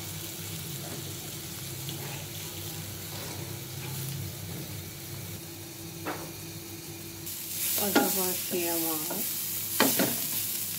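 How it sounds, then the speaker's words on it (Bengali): Dried loitta fish sizzles steadily in a pan among fried garlic, onion and chili, with close stirring scrapes throughout and a louder burst of frying near the end, briefly under a voice. "এখন আমি শুটকিগুলো ভেজে নিচ্ছি।"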